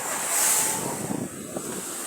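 Strong typhoon wind from Typhoon Tino roars and buffets the microphone continuously, with a surf-like rushing wash swelling early and steady gusts throughout, no voices.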